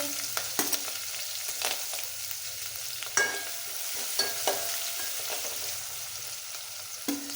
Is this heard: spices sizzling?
yes